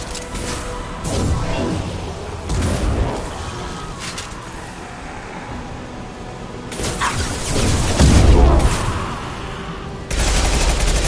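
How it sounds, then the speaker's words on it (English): A high-impact weapon shot in the sci-fi shooter Mass Effect 2 arrives as loud, sharp blasts with booming low tails amid bursts of gunfire, several impacts spread across the stretch, close and heavy. "Firing a high-impact shot!"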